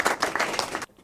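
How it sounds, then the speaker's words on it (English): A small audience claps for a guest introduced on a talk show about sports during the pandemic; steady, dense applause lasts nearly a second before cutting off abruptly into near silence. "Hand claps for Vernon."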